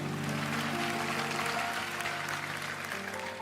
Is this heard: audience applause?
yes